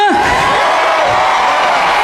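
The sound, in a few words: large crowd cheering in the street, rue Saint-Martin, Soissons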